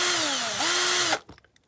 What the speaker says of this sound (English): I've had no problems drilling the glass out so far